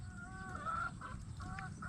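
Farm chickens cluck in a few short, nasal bursts close by, against a faint low background hum.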